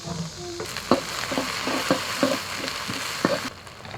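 Doubanjiang bean paste sizzles in a little hot oil with scallion, ginger, garlic and Sichuan pepper, the start of braised beef bones; a steady close fry with a few sharp scraping stirs at an irregular pace and no talking.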